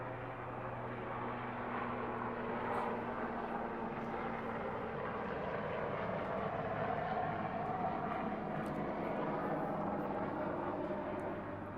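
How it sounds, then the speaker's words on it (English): Steady droning engine noise of a helicopter passing overhead, continuous and fairly loud throughout, with a low rumbling hum and no talking. "Helicopter."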